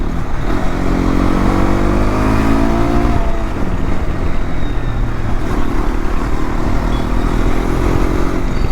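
A Hero XPulse 210 motorcycle engine drones steadily while being ridden, loud and close, with a shifting rev note under heavy wind rush and no clear talking.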